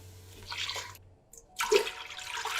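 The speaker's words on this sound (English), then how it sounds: "So now that my onions are sauteed and ready, I'm going to add my water." Starch water poured into sauteed onions in a cooking pot, a splashing liquid rush in two bursts separated by a brief quiet gap, close and moderately loud.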